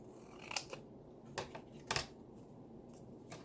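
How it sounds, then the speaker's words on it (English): Scissors snipping through paper scraps for a craft project: a few crisp, separate cuts spaced about a second apart, close by and fairly quiet, with no talk. "And grab my scissors. And I'm just going to cut between these."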